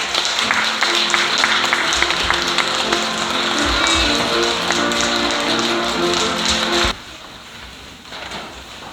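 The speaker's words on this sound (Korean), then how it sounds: "우리 어른들께서 우리 어린이들 위해서 정말 다 일어나서 우리 박수 쳐줬으면 좋겠어요" A church congregation on Children's Sunday stands and applauds the children, a dense sustained wash of clapping that cuts off sharply near the end, leaving quieter room noise.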